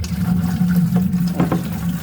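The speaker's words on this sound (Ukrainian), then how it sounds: "Краник відкрив і все, і водичка собі біжить" Water from an opened garden tap runs steadily into a container, a continuous close hiss and low gurgle with no talking.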